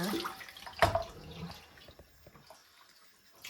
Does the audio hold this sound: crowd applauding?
no